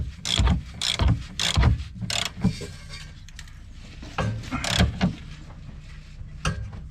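Wrench or ratchet clicks on the rear suspension nuts of a Hyundai Elantra with a broken rear suspension, the car resting on its own weight; several bursts of mechanical clicking and scraping at close range with quiet gaps between them.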